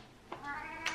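A cat meowing for food, two short close meows a moment apart, fairly faint and with no talking over them.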